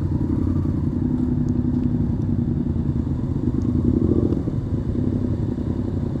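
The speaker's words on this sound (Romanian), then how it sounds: "Hai că urcă bicicliștii și apoi motocicliștii." Motorcycles riding onto a ferry in Norway: a continuous engine rumble and idle drone, with light metallic clatter and thumps as the bikes roll aboard, no speech.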